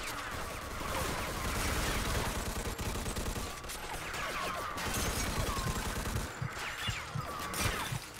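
Sustained bursts of automatic gunfire from a grease gun in the Mafia 2 video game, rapid rattling volleys repeating through the whole stretch, loud and close with crashing impacts mixed in.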